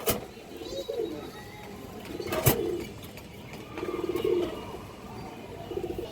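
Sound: cooing of big-sized pigeons

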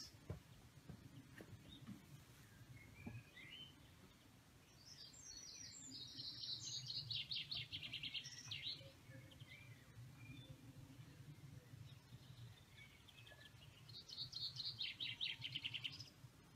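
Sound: small birds chirping

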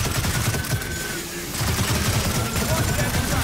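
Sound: gunfire from a gun in the video game Gears of War 4

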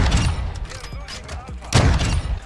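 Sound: VICTUS XMR sniper rifle shots in a video game

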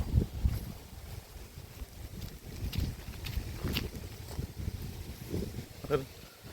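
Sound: strong wind blowing

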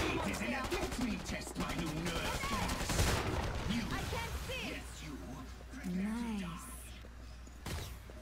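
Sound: gunfire in Killing Floor 2 video game

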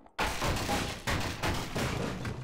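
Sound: gunfire in Half-Life video game

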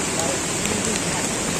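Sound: rain falling while walking on a jungle trail

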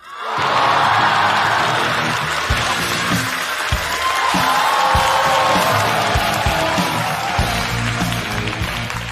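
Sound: audience applause and cheering welcoming Jia Nailiang

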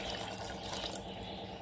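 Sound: water poured into pot for cooking pongal

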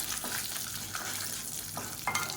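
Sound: dried red chillies frying in pan

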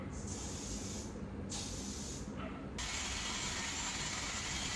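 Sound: hair spray being sprayed on hair

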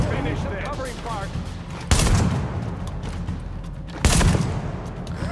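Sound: gunfire in The Division video game

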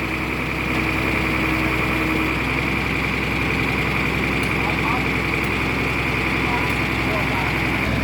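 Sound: antique engine running

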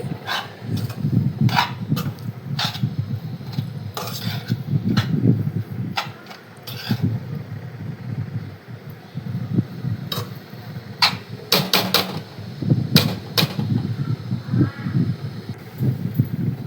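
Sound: stirring carrot halwa in a pan on low flame

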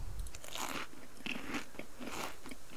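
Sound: character munching kelp in video game Subsistence

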